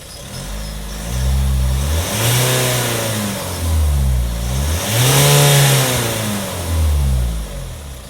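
A Hyundai Staria van engine revs and accelerates repeatedly, its pitch rising and falling in several surges, loud and near with a throaty rumble.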